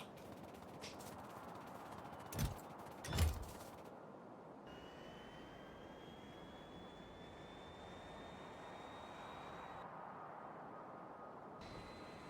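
A small airplane in Factorio drones with a steady, faint engine tone and a slowly rising whine, broken by two brief loud thumps early on.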